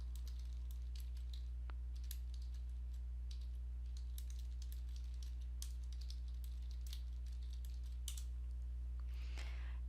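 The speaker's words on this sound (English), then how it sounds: "then I'll type in my message" Soft, irregular keystrokes tapped out on a computer keyboard while composing a group chat message, faint clicks scattered steadily over a constant low hum, with no voices.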